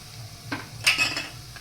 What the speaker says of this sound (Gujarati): હવે તેલમાં થોડું સાતળી ગયું છે એટલે આપણે તેમાં ડુંગળી એડ કરી દઈશું